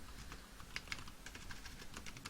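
Quiet, close clicking of keys on a computer keyboard, a brisk irregular run of taps with a couple of slightly firmer presses like the return key, and no voice over it.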